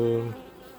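Honeybees hum on a hive frame of pollen and syrup in a freshly divided swarm, a brief close buzz that swells at first and then fades quickly.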